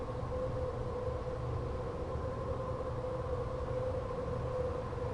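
A steam-era train idles at a station in the Murder on the Orient Express adventure game, a constant low rumble with faint steady hums, unchanging throughout and with no talking.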